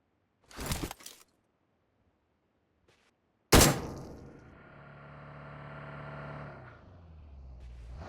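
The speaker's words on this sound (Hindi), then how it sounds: "उतने में पहाड़ की तरफ से मुझे फायरिंग की साउंड आती है।" Gunfire in PUBG Mobile: a short burst of shots early, a faint pop, then a sharp blast followed by a sustained vehicle-like engine drone, with no voices.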